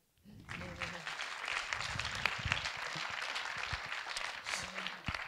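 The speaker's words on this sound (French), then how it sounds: "Donc on peut t'applaudir." An audience at a lecture session applauding, a steady wash of clapping that rises quickly and holds at moderate level, with a few voices and low murmurs mixed underneath.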